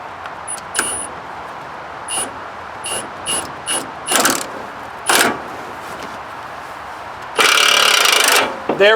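Pitman arm puller at work on the steering pitman arm of a Duramax truck, giving a series of short metallic clicks and ratcheting bursts that ends in a longer, louder grinding scrape. No one speaks.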